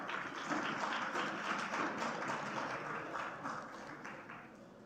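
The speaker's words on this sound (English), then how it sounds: "Friends of Devanshi can clap for her." Applause rises for a graduate at an IIHMR University convocation ceremony, a dense, steady wash of many hands clapping in a large hall, moderately loud and sustained throughout with no voices over it.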